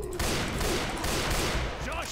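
Semi-automatic sniper rifle fire rings out in the video game Left 4 Dead 2 as a loud, dense burst of gunfire amid game noise, with a voice talking over it.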